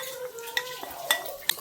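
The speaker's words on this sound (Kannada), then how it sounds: "ಚಿಟಿಕೆ ಅರ್ಶನ, ಕರ್ಬೇವ್ನ ಒಗ್ಗರಣೆ ಕೊಡ್ತಾ ಇದ್ದಾರೆ." Turmeric and curry leaves are tempered in a pan on a weak gas flame, with a soft sizzle under several metallic clinks and scrapes of a spoon against the pan.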